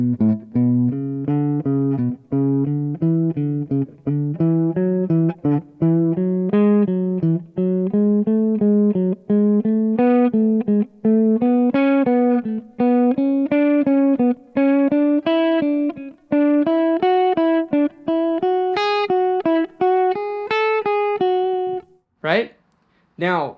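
Guitar picking a steady ascending run of notes in repeated groups of five, each group climbing higher, with clear evenly spaced plucks played alone and up close.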